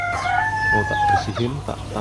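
Chickens on an Indonesian poultry farm, where hundreds of large, healthy young birds are kept. A rooster's drawn-out crow rings out clearly near the start, followed by a run of close clucking.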